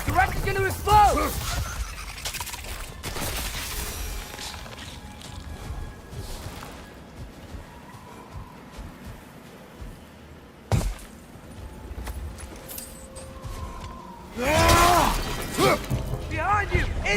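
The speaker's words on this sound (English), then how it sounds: "The wreck is gonna explode!" Crashing and shattering blasts from a wreck exploding in God of War Ragnarok, loud bursts near the start and again toward the end, with quieter rumbling and debris clatter between.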